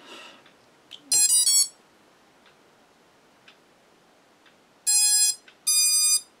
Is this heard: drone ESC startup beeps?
yes